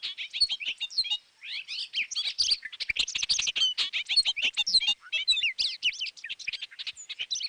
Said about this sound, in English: This is a bobolink.